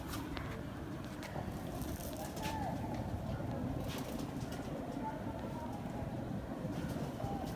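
Pigeons in a loft in Pakistan cooing softly in low, throaty repeated calls beneath steady background noise, fairly distant, with someone speaking over them.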